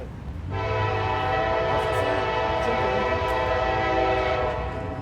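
GE locomotives pass close by, sounding a loud, sustained horn chord that starts abruptly and holds for several seconds over the low rumble of the train.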